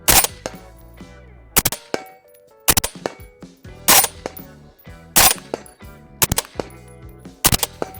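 An FN SCAR-L rifle fires six sharp shots at a steady, deliberate pace, each a loud close crack followed by a ringing metallic tail, with quiet gaps between.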